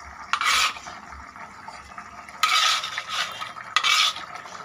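Eggplant curry with rohu fish is stirred in a pan. Three loud, rasping scrapes of a spoon come in bursts over a soft background, with no talk.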